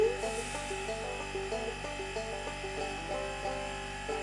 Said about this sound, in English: That's my compressor, that noise.